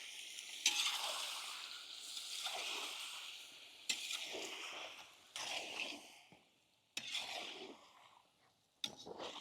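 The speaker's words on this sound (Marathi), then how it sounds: "अंडे आता व्यवस्थित मसाल्यामध्ये फ्राय झालेले आहे." Eggs frying in oil with a spiced masala of salt, turmeric and chilli powder for a village-style Maharashtrian egg curry, heard as a soft sizzle broken by stirring and scraping in the pan, with abrupt pauses between quiet bursts.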